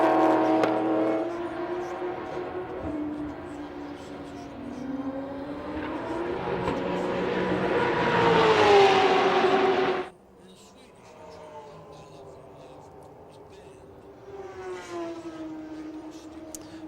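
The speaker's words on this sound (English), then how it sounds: "Absolutely no doubting a V8 on board" A V8 GT race car engine roars close up at Sydney Motorsport Park, revving higher through the gears with rising pitch, cutting off abruptly on a downshift before climbing again.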